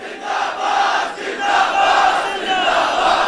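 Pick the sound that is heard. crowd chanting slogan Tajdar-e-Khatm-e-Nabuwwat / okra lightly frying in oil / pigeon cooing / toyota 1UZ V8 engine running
crowd chanting slogan Tajdar-e-Khatm-e-Nabuwwat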